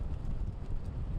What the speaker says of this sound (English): the wind, these gusts are certainly picking up